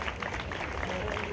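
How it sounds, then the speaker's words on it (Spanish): Audience clapping at a Spanish festival queens-and-ladies ceremony in Elche, a steady dense patter of applause with a murmur of crowd voices mixed in. "Un aplauso"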